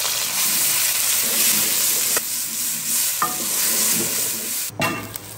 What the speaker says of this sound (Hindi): अब इसमें जाएगा प्याज